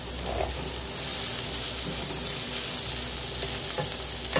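Minced onion and garlic fry in a pan for chicken kosha, a steady dense sizzle that holds evenly from start to finish with faint crackles, no voices.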